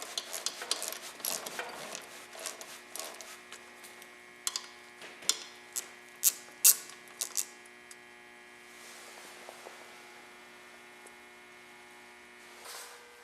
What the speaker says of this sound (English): Using a 732 socket, I remove the orifice from the brass pipe.